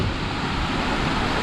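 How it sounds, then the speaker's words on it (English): Waterfall at Disney's Typhoon Lagoon water park, a loud, close, continuous rushing roar of falling water with no pauses or voices. "we're about to go under this waterfall"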